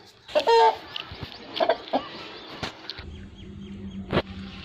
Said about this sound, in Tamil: சண்டைக்கோழி பாருங்க